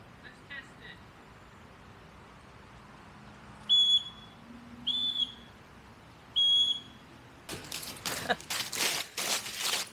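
A homemade emergency keychain whistle is blown in three short, shrill, loud blasts spaced about a second apart, followed by a burst of louder broadband rustling and handling noise at close range.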